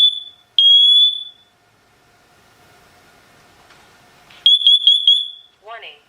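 A SITERWELL hardwired interconnected smoke and carbon monoxide detector sounds its test alarm: loud, piercing beeps, a pause with faint hum, then another burst of shrill beeps and a short electronic chirp, close and alone.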